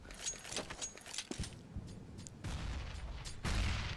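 Grenades go off in Counter-Strike: Global Offensive on Dust 2, a few muffled booms and cracks followed by rumbling blasts, with faint game gunfire around them.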